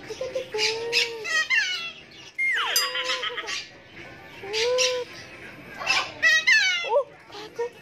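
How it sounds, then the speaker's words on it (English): A pet bird at home gives a run of loud, squawky chirps and rising and falling whistles, repeated in bursts at close range while people talk excitedly nearby. "Look at the bird! It's a bird!"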